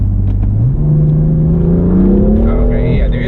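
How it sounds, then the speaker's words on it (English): A BMW F82 M4 engine revving hard through a manual downshift, a loud steady roar climbing in pitch, with a brief hiss from the blow-off valve near the end. "I do hear the blow off too"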